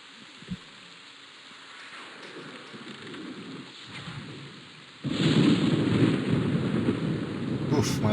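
A lightning attack in a swamp video game brings a low rumbling thunder that swells suddenly midway and turns into a heavy, sustained roar like a downpour. Faint voices sit under the opening.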